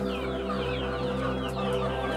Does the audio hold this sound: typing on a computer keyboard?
no